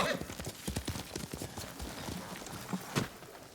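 Horse hooves clip-clop at a quick pace in the video game Ghost of Tsushima, close and continuous, under someone talking.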